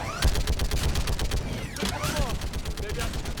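Turret gunfire rattles in the Mass Effect 3 video game: rapid, sustained bursts of shots close up, with mechanical whirs and metallic clanks mixed in.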